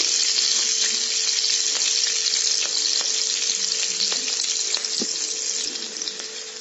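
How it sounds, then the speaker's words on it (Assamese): Garlic frying in oil until reddish for a bottle gourd and fish curry, a steady loud sizzle running throughout with faint stirring clicks, no talk. "নহৰুখিনি ৰঙচুৱা হোৱালৈকে ভাজিম"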